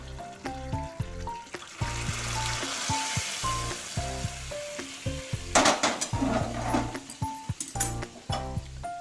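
Garlic and boiled dal (lentils) sizzle loudly as they fry in a pan, with steady crackling, a few utensil scrapes and stirring clatters, up close and with no talk.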